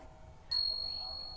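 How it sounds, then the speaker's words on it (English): A single bright metal hand bell strikes once during a Hindu worship offering amid devotional singing, its clear ringing tone hanging on and slowly fading over a low background murmur. "Ring the bell."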